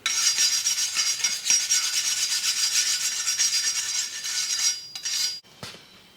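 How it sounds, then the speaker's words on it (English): Stiff wire brush scrubbing caked buildup off a steel lawn mower blade, a continuous harsh rasping scrape of rapid strokes for several seconds before breaking into a few shorter, separate passes near the end. "I'm going to use a wire brush. Scratch this thing clean."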